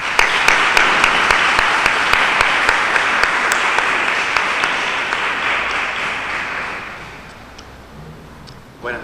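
Loud audience applause welcoming a speaker at an evening religious brotherhood lecture in Spain, sustained dense clapping with sharp individual claps on top, tapering off near the end before a brief noise.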